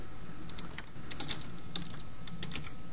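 Quick bursts of clicky keystrokes on a computer keyboard, close and clear, in short irregular runs with brief pauses between them.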